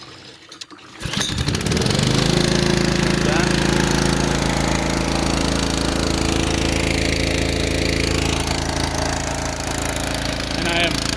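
A fire trailer's engine-driven water pump starts up after a brief quiet moment, then runs loud and steady close by, a constant motor drone with strong low hum.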